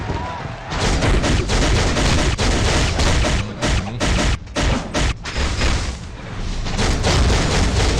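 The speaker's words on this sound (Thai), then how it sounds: "เอาปืนกลฟาดปุ๊บยิงกราดกราดยิงปุ๊บ" Sustained machine gun fire in the mobile game Marvel Future Fight, loud and dense bursts of rapid shots with booming impacts that roll on almost without pause for several seconds.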